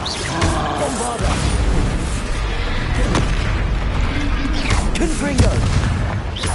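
The Bombarda blasting spell in Hogwarts Legacy sets off loud, booming explosions and crackling impacts that continue over a dense, chaotic combat din.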